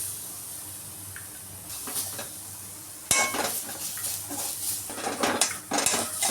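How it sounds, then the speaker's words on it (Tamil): Cut coconut pieces lightly roasting in a pan, with scraping and clinking of a utensil against the pan over a soft hiss, the stirring growing louder and busier midway. "நம்ம கட் பண்ணி வச்சுருந்த தேங்காவையும் லைட்டாக வறுத்து எடுத்துக்கலாம்"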